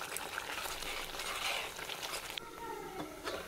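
Garlic kuzhambu, a tangy garlic curry, simmers in a covered pot with a steady soft bubbling and light sizzle that continues throughout, a faint clink partway through, no voices.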